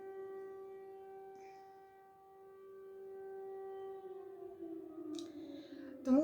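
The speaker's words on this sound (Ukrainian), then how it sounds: "Повітряна тривога." A distant air raid siren wails in a long steady tone that slowly falls in pitch, followed by a few faint clicks.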